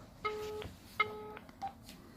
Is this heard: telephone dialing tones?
yes